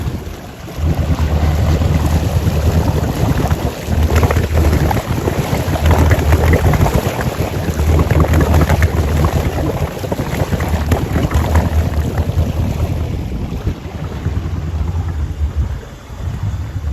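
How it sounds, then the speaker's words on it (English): A deep, gurgling Chrysler 225 engine in a 1971 Century Resorter boat idles and churns steadily, its low throb running under wind buffeting and splashing water for the whole stretch. "Enjoy the sound of a gurgling 225 Chrysler in a 1971 Century Resorter."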